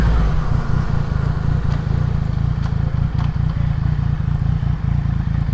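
Motorcycle engines rumble steadily and loud at a bike night, seemingly from a Yamaha MT-09 being ridden up close, with a constant low growl and faint clatter from the surroundings and no talk.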